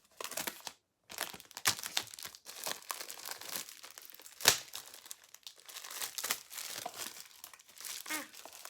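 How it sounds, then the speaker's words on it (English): Plastic wrapping torn and peeled off a Harry Potter book: a steady run of close crinkling and crackling, with a short pause near the start and a sharp tearing snap midway, no talk. "I'm gonna unwrap it because it's still in its plastic wrapping."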